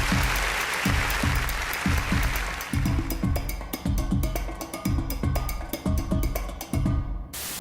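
An audience claps loudly and steadily, the rhythmic applause swelling in waves and then fading at the end, with no talk over it.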